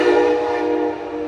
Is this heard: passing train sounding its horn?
yes